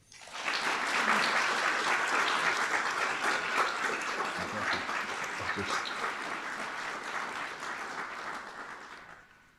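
Applause from an audience at Dakota State University welcomes Clay Jenkinson to a lecture on the humanities and artificial intelligence. The clapping swells quickly, stays strong and steady for several seconds, then tapers off.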